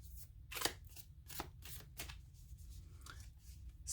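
Playing cards shuffled by hand at close range, a series of crisp, papery riffling bursts coming in quick irregular succession, with no voices.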